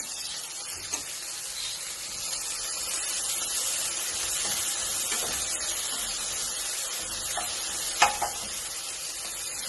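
Tomatoes fry in a pan until soft, giving a steady, faint hissing sizzle with a few brief clinks or stirs, no voices.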